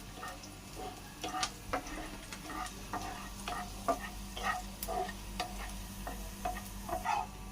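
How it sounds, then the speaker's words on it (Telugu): Garlic cloves fry in a pan until brown, with a quiet, close sizzle broken by light, irregular taps and scrapes of a stirring spoon. "ఎల్లిపాయలు మంచిగా ఇవి కూడా బ్రౌన్ కలర్ వచ్చే వరకు వేయించుకోవాలి"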